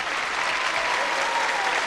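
Steady applause from a crowd, dense and even clapping sustained throughout with no talking.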